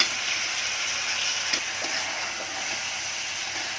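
Cluster beans (gawar) and onion sizzle in a hot pan, with a steady moderate hiss and a few soft stirring clicks and no voices.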